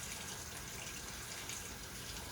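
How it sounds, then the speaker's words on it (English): Cold tap water runs steadily over canned beans in a strainer, a continuous close splashing rush with no pauses and no voices. "with just cold water, I'm just gonna rinse them"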